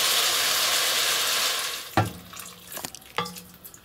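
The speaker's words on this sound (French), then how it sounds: "vous ajoutez de l'eau pour que ça arrive à hauteur" Water poured into a pot of lentils being cooked, a steady broadband rush for about two seconds, then a few splashy pours and drips that trail off.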